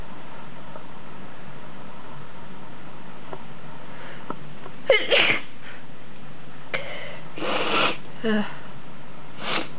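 Wet, messy human sneezes with sniffling, several bursts clustered in the second half, close and fairly loud against a quiet room.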